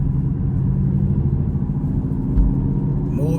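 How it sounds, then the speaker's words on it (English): A manual-transmission car pulls away from a stop as the clutch is let out, its exhaust giving a steady low engine rumble close to the cabin with little change in loudness. "So now we're gonna let off the clutch, give it a little bit of gas, you can hear the exhaust."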